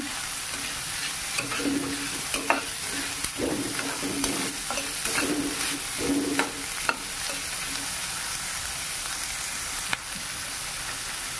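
Capsicum and carrot sauté in a hot pan for paneer fried rice, a continuous close sizzle with repeated scraping stirs and light clatter, steady and loud throughout, no voices.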